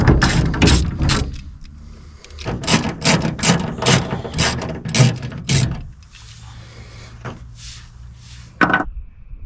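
Ratchet working 13mm roll bar bolts loose on a GWM Cannon ute, close, rapid pawl clicking in quick strokes, then a lighter rattle and clunk of loosened parts with quiet pauses.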